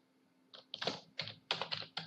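Quick bursts of keystrokes on a computer keyboard, close and fairly faint, come in short irregular clusters of clicks separated by brief pauses.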